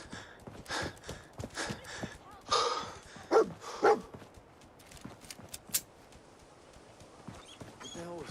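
Dog companion in the video game Fallout 4, with scattered barks, sniffs and pawing noises spread across the moment, moderately near, mixed with footsteps-like clatter and faint game ambience.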